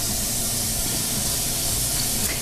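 Onion sizzling in olive oil in a pan for risotto, a loud steady hiss with dense crackle close up, no talk over it.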